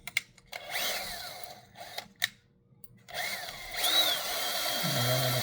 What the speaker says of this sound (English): I just go by the number 50 bit in the size, and I just take the drill.